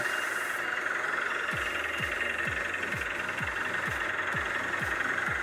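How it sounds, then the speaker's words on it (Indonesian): A Mitsubishi Pajero Sport Dakar engine runs steadily after an oil change, a low regular rhythmic chugging under a constant broadband hum. "lalu kita coba untuk nyalakan mesin"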